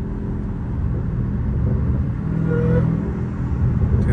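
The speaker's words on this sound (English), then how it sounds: "the supercharger whine is something else" Dodge Hellcat Redeye driving with a steady, loud low exhaust rumble and a rising supercharger whine, building slightly in volume near the end with no talking.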